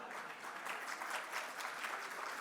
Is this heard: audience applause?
yes